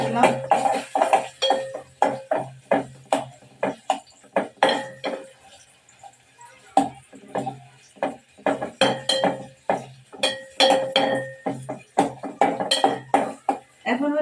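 A utensil scrapes and knocks steadily against a pan while greens paste is fried, giving a regular run of close, sharp clinks with a brief pause midway and a voice talking over the top.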